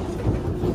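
A Singapore train ride, heard as a steady low rumble of the moving carriage with a faint rhythmic rattle, close and continuous for under a second.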